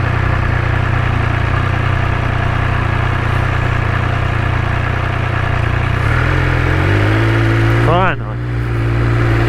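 Motorcycle engine idling close by, a steady low rumble that shifts pitch slightly near the end, with a brief sharp swept sound just after.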